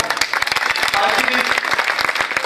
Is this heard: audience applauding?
yes